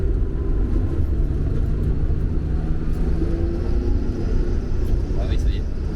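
A Porsche 911 E with mechanical fuel injection runs while driving, its engine a steady low rumble close by under road and cabin noise, with people talking over it.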